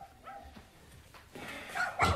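Dogs bark in a German crime radio play, with soft scattered yips early on, then louder, clustered barks and whimpers building toward the end, fairly distant.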